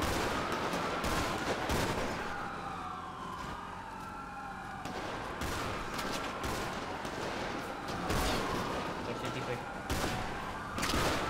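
Sustained gunfire in a GTA roleplay gang shootout on the streets, overlapping bursts of shots mixed with wailing police sirens, with people talking over the chaos.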